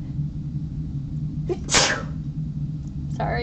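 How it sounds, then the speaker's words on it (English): A person sneezes once, sharply and close, over a steady low hum in a quiet indoor room. "I have to sneeze."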